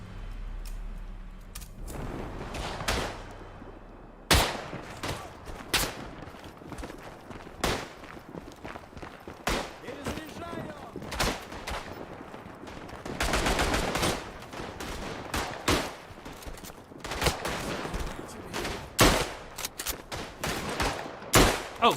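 Rapid bursts and single shots of M90 carbine and other gunfire in the video game Tannenberg, sharp cracks scattered throughout against a busy battlefield background, some shots near and loud, others more distant.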